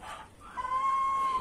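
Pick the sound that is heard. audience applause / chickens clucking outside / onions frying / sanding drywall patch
chickens clucking outside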